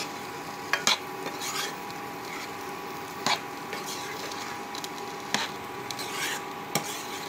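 Chopped potatoes being stirred into a green pea curry in a pan, with soft scraping and rubbing strokes and a few sharper knocks of the spoon against the pan over a faint steady sizzle.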